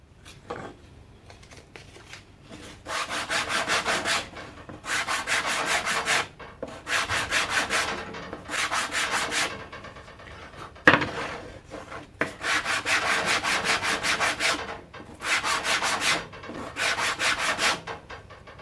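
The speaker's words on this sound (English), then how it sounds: "I'll get some sandpaper on there, sand it smooth." Sandpaper rubbed back and forth over a wooden table saw jig, in repeated loud bursts of harsh scratchy strokes separated by short pauses, with one sharp knock midway; no talking.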